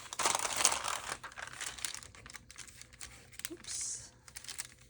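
Paper being cut for a handmade journal, with short crinkly snips and rustling handling noises up close, fairly soft, with a brief faint voice partway through.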